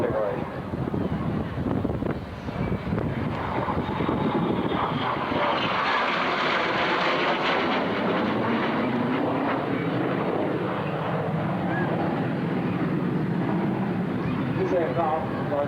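An aircraft flying at the 1996 Shoreham Airport airshow, a loud sustained engine drone that swells and shifts in pitch as it passes, with wind buffeting throughout.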